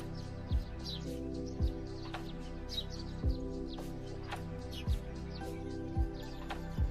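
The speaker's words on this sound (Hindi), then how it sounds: "लेकिन सुबह सुबह देखो ना तो इन पक्षियों की आवाज़ सबसे ज़्यादा सुनाई देती है।" Morning birdsong in the mountains: small birds chirp and tweet in quick high bursts over a soft background, while a low thump recurs about once a second.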